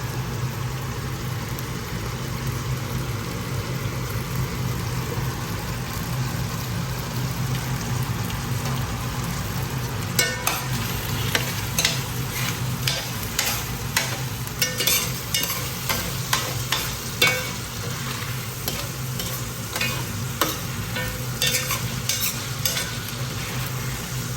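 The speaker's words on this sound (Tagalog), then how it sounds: "Fry natin siya guys ng konti." Chopsuey vegetables stir-fry in oil, with a constant loud sizzle that turns into rapid, rhythmic scraping and tossing from about the ten-second mark onward.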